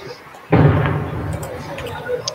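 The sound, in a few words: distant explosion, likely firecrackers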